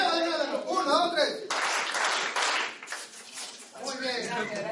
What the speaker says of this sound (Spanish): A la voz de tres, aplausos cariñosos.